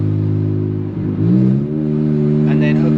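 An Infiniti Q50 Red Sport revs briefly and climbs in pitch as it accelerates, with a steady engine hum heard from inside the car. A faint turbo whistle sits near the end.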